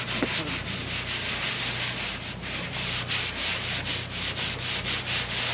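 A Scotch-Brite pad scrubs rusty metal in steady back-and-forth strokes, giving a close, rhythmic abrasive rasp with no voices.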